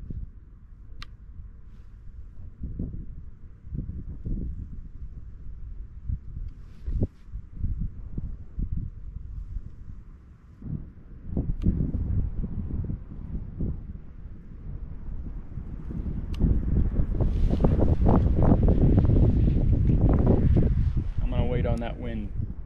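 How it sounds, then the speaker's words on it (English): Wind gusts buffet the microphone outdoors at a milk jug shooting challenge, swelling louder and rougher toward the end while a person talks. "Wind's picking up."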